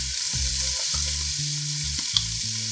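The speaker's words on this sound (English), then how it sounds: "we're going to cook our onions in it" Onions cook in grease in a pot on a stove turned down low, giving an even, continuous sizzle with a low steady hum underneath, close and fairly loud.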